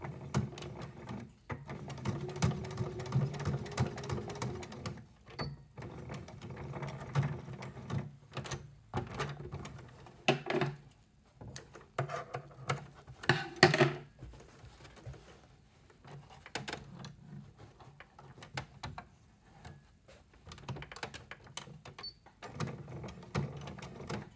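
Sewing machine stitching seams on a fabric wallet in bursts of rapid, steady whirring, separated by short pauses and soft handling clatter, close by at moderate volume.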